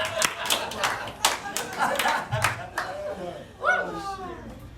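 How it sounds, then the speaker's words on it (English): A comedy club crowd in Anniston, Alabama, claps hands in scattered bursts, with voices and a bit of laughter mixed in between the claps. "Clap your hands."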